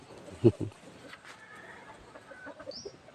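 Chickens near a temple dog at a Thai temple in Lampang cluck close by in short bursts, with a louder pair of calls early on and faint chatter and light background noise around them.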